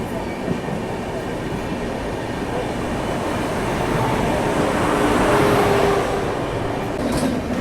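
Inside the Bilaspur–New Delhi Rajdhani Express, a steady loud rumble of wheels on rails fills the carriage as it runs past the crossing with the Tirunelveli Bilaspur Express, swelling slightly midway, with faint high squeals and no clear talk.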